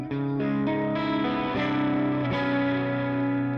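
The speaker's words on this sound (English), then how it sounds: "now we've created a tone with, it sounds like a little bit of overdrive on here, that's pretty full" Sustained electric guitar chords with a mildly overdriven, full tone and some chorus-like shimmer, ringing continuously with a couple of chord changes.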